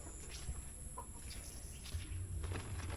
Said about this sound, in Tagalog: Ang manok, nabasa man kaning manok pag-ayo.